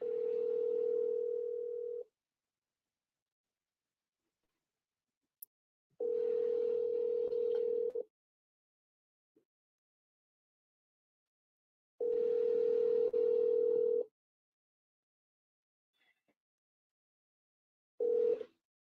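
Outgoing telephone call ringing unanswered, four long, evenly spaced ringback tones separated by silence, the last cut short; no voices.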